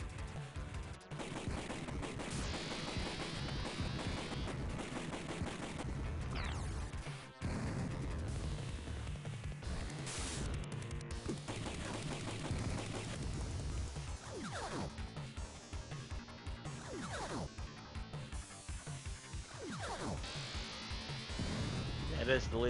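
Laser cannon beam firing in the Sega Genesis game Phantom 2040, a dense, continuous roar of blasts and crackling bursts with sweeping tones, loud and sustained throughout, mixed with game music.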